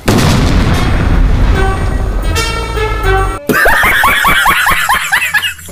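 Launcher blasts and landmine explosions in the video game Free Fire, heavy booming bursts, then a sharp cut into a rapid run of squealing, laugh-like effects, all loud and close.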